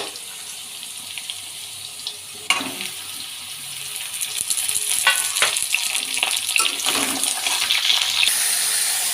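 Potatoes and ridge gourd sizzle and crackle in a hot pan, a steady frying hiss with scraping and stirring clatter, close by and fairly loud.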